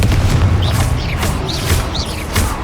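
Repeated explosive spell blasts in a wizarding action game, several booming bursts with whooshing magical flourishes spaced about half a second apart over a constant low rumble.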